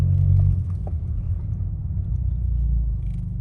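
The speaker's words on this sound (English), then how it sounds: "And then I just step on the gas." A Honda Accord Sport with paddle shifters pulls away from a complete stop, its engine a low, steady rumble heard from inside the car. The tone swells slightly as it builds speed, and nobody speaks.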